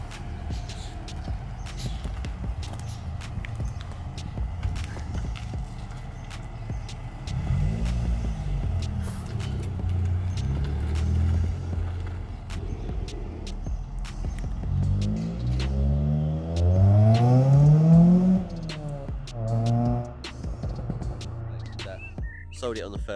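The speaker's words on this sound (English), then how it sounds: "I'll insert the clip of the Fiesta going" A Ford Fiesta ST150 drives past, its engine note rising and falling in pitch as it approaches and pulls away, fairly loud over steady road and background noise.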